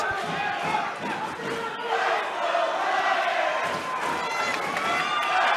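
A fight crowd at a Canadian title boxing main event roars and cheers on its feet, a loud sustained wall of shouting and yells under a commentator's voice.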